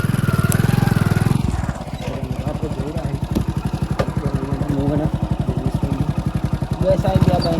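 A motorcycle carrying riders, with a passenger seated on the back, chugs steadily and close by, its engine pulsing in an even, rapid rhythm throughout, with faint voices underneath.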